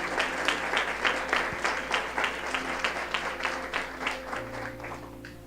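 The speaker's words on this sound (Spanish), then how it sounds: "Dele ese aplauso al Rey." A church congregation claps in sustained applause during a sermon, with dense, even hand claps over a low background hum. The clapping slowly softens toward the end.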